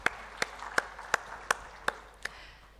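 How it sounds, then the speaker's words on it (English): Seven sharp, evenly spaced claps ring out at a directors' conclave, like a single pair of hands beating slowly and distinctly in a quiet hall rather than a full audience applauding. "A round of applause for our partners for the conclave."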